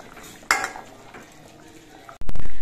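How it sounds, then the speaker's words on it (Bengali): Lid lifted off a wok of mustard hilsa curry, then a spoon stirring the gravy: a sharp metallic clink, soft scraping under room noise, and a louder clatter near the end. "5 মিনিট পর আমি ঢাকনাটা খুলে নিচ্ছি আর ঝোলটা একবার নেড়ে চেড়ে দিচ্ছি।"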